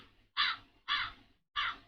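Three loud, close crow caws sound in even succession from a soundboard, each a harsh burst separated by short silences.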